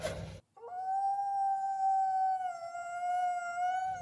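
A toy wolf's electronic howl sound effect plays close and alone, a short rising yip followed by one long sustained tonal howl that holds steady before fading out.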